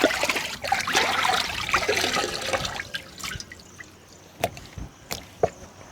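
Karimeen (pearl spot fish) being washed in salted water in a Kerala village kitchen: close splashing and sloshing for the first few seconds, then quieter trickles and a few sharp drips and clinks.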